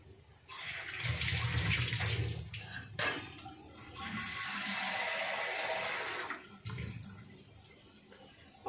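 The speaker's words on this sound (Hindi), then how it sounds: "और इस बर्तन में पानी डाल दूंगी।" Water is poured into a cooking pot resting on top of a dish of bottle gourd curry, in two steady splashing pours, each lasting a couple of seconds, close up with no talking.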